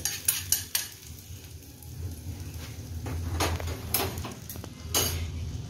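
Hot oil tempered with cumin, mustard seeds and red chili is poured over methi, bringing a low sizzle alongside sharp clinks and scrapes of a spoon and metal pan close by.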